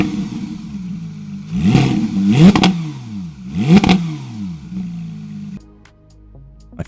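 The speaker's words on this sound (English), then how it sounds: "The only other mod outside the PPF is this catback JCR exhaust." A 2019 Porsche 911 GT3 RS fitted with a JCR catback exhaust is revved three times in quick bursts, each climbing and falling sharply over a steady idle, loud and close, then settling back to idle.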